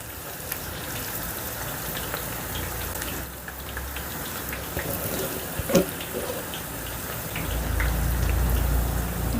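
Onion pakoda batter frying in hot oil, a steady dense sizzle and crackle that holds throughout, fairly close, with a low rumble building near the end.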